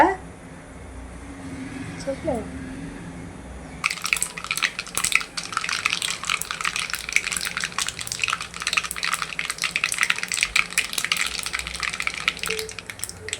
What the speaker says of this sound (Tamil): இப்போ கடுகு நல்லா பொரிஞ்சிடுச்சுங்க.